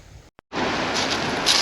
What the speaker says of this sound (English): That wind's picked up a bit more, which is a bit of a pain now, blowing almost straight into me.